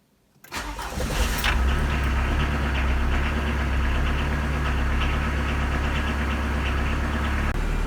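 A car engine cranks and catches after a brief quiet moment, then settles into a loud, steady idle that continues to the end.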